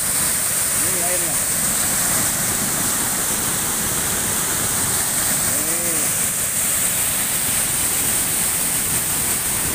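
Lungkuk waterfall thunders in a constant, dense rush of falling water heard up close, with short bursts of speech twice breaking through beneath the roar.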